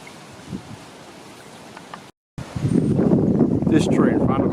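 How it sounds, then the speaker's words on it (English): A small running creek outdoors, flowing toward a waterhole, gives a steady broadband rush that swells louder after a brief dropout, with wind noise mixed in. "A little running creek here"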